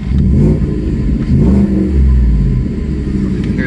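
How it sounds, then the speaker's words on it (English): The 5.0 V8 of a lowered 2020 Ford F-150 regular cab with an FCP Earthquake exhaust revs up and holds a deep, throaty roar, with a couple of rising surges, loud and close throughout. "give the exhaust a little more"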